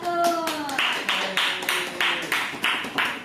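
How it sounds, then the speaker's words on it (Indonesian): A classroom group claps in unison for the first group, a series of about eight evenly spaced rhythmic claps following a brief bit of voice, close and clear. "Tepuk tangan untuk kelompok 1"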